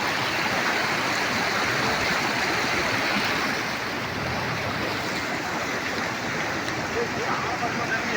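Loud, steady rush of stream water tumbling over rocks at a dam waterfall, a dense continuous roar filling the whole stretch without a break.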